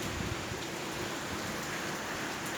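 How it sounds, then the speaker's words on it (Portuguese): Heavy rain during a windy storm in Ouro Fino, a dense, steady hiss of falling drops that stays loud and even throughout with no pauses, no voices and only a low background rumble. "A chuva, né? Tão esperada, né?"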